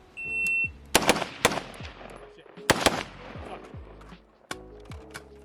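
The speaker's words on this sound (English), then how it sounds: "we're gonna do the double Mozambique, which is 2 to the chest, 1 to the head, and this is gonna force a reload" Type 81 rifle firing a double Mozambique drill, a sharp, loud shot followed by a second close behind, a pause, then another pair and a later single shot, each crack ringing out with echo at close range.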